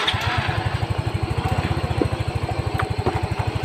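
A motorcycle engine runs close by at a steady, fast idle, its low putter pulsing in an even rhythm throughout.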